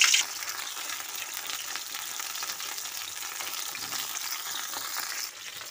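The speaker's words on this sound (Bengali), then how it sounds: "এরপর আমি পটলগুলো, তেলটা আমার গরম হয়ে গেছে, দিয়ে দেবো।" Pointed gourd (potol) fries in hot oil, giving a steady, moderately loud hiss and crackle that holds evenly before easing slightly near the end; no speech.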